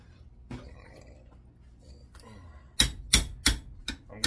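Hammer blows on the head of a steel chisel in a scrapyard setting, working on copper motors: five sharp metallic strikes in a quick, slightly uneven series near the end, after quiet handling noises.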